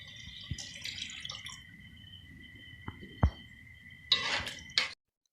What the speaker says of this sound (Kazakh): кішкене су қосам.